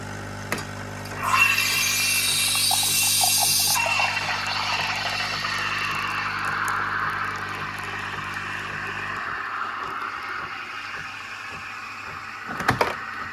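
A Nespresso machine brews a Costa espresso pod with a steady droning pump hum and an early burst of hissing and sputtering. The hum cuts off, followed by quiet and a couple of small clicks near the end.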